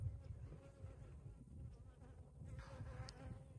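Honeybees buzz steadily around a beehive as it is being moved, making a continuous low drone at moderate distance with no talking.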